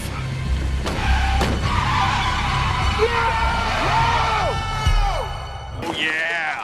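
Trucks skid and collide in the 1997 film Jack Frost: loud squealing tires and engine roar, rising and falling screeches, then a sharp crunching impact near the end, with voices heard over the chaos.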